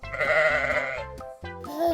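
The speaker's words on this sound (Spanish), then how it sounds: "¡Oveja!" Two sheep bleats, close and loud, in quick succession with a brief gap between them and no talk over them.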